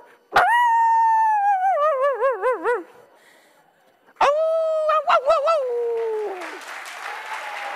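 A performer's voice imitates a dog, giving two long, loud, wavering howls with whimpering and yipping inflections, separated by a short pause, on a talent show stage.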